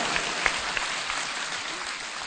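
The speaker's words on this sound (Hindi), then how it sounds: "सुंदर भारत के नौजवानों के लिए ताली बजाइए" Audience of mothers and sisters clapping at a dowry-themed gathering in India, a dense, steady wash of hands throughout with a few sharper claps standing out, fairly close and without talk.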